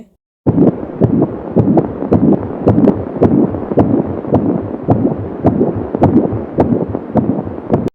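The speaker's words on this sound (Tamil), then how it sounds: "உடனே டக்குன்னு வந்து பேபி ஹார்ட் பீட் சவுண்ட் கேட்குது." Baby heartbeat sound effect: a steady, fast, muffled throbbing pulse, loud and close, beating evenly without any voices after a brief silent start.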